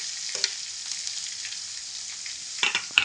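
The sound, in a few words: onion added to hot oil with bay leaf, sizzling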